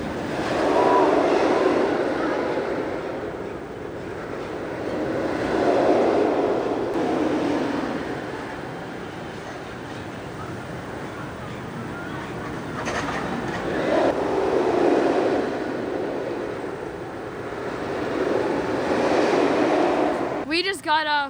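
A roller coaster train, Mr. Freeze Reverse Blast at Six Flags Over Texas, rumbles steadily on its track, its roar swelling and fading in long waves, with a brief mechanical squeal near the end.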